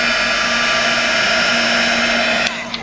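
A heat gun melting embossing powder gives off a loud, steady, close whirring blower hum that runs throughout and drops off slightly near the end.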